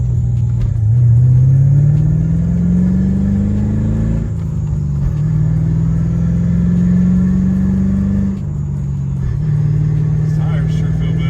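A Ford 5.0 V8 pulling through the gears on a test drive in a manual car, a loud, close, rumbling engine that rises steadily in pitch, drops at each shift and climbs again, filling the cabin.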